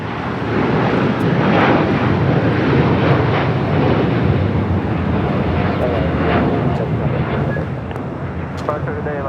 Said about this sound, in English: This is El Al Flight 6 taking off to Tel Aviv